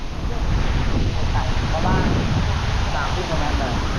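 Water pours out like a waterfall inside a cave, a dense, constant rushing wash that stays loud from start to finish, with voices faintly present underneath.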